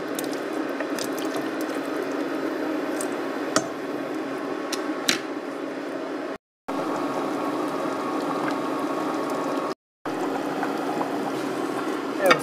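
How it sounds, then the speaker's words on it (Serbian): About two decilitres of white wine is poured into a simmering brodet fish stew. A steady, close splashing hiss runs for several seconds, broken by two short silent gaps. "sipat ćemo malo belog vina, negdje oko 2 dl"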